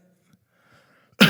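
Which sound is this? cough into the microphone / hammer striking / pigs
cough into the microphone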